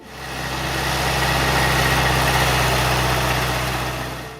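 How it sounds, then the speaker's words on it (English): A John Deere 1010 tractor engine runs at a steady idle, a continuous low rumble with an even mechanical throb, loud and close, fading in and out gently with no voices. "when the engine fires up, you hear that steady working rhythm that so many farmers grew up with"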